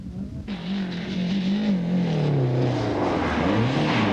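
A Peugeot 309 GTI Evolution rally car at the 1991 Niedersachsen Rally drives hard, its engine revving and climbing through gears, loud and close throughout with no voices.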